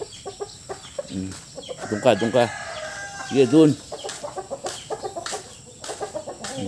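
Chickens cluck and a rooster crows nearby, loud bursts among softer clucks, while a person speaks briefly in the background.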